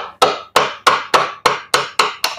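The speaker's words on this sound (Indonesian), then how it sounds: "tinggal didorong saja pakai paku atau pakai obeng yang sudah rusak ya, jangan yang bagus, tinggal didorong saja" Hammering a nail or old screwdriver to drive out the bushing of a Maspion blender cup: eight sharp metallic strikes, close and loud, at a steady rhythm with short ringing decays and no talk.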